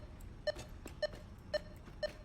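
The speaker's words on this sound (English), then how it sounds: "And it beeps faster." Object scanner in the Satisfactory video game beeping near a power slug: four short, evenly spaced tonal beeps about half a second apart over a faint hum, with no talk.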